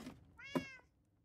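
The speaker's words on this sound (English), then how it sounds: "Yes, cat, I hear you." A house cat meows once, a clear, fairly close, drawn-out cry with a soft lead-in before it and a quieter tail after, otherwise quiet room.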